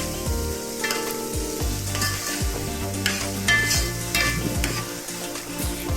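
Barabati long beans frying in oil in a pan, stirred steadily with a utensil, giving a continuous close sizzle broken by repeated scraping and clattering strokes against the pan.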